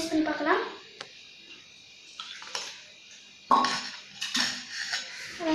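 A utensil cuts a steamed egg bun on a plate, giving a few light clinks and scrapes against the dish at irregular moments, close and fairly quiet, with a person speaking between them.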